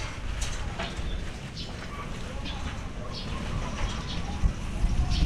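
Pigeons coo in a rainy outdoor spot, soft repeated calls under ongoing noise with people talking nearby.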